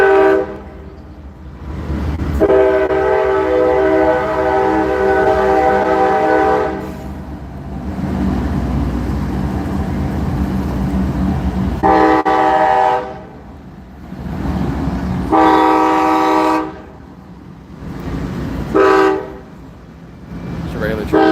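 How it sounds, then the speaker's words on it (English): A loud train rolls past close by with a rumbling, clattering undercarriage, and its horn sounds in several long blasts over the noise, outdoors on a street in Gettysburg. "Here's another train."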